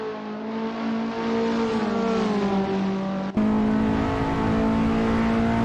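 A Skip Barber race car engine at Albert Park in Assetto Corsa drones steadily at high revs, its pitch sagging slightly before a gearshift and then holding loud and close.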